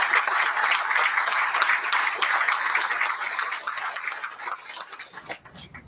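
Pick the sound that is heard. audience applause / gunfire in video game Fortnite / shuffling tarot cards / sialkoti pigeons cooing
audience applause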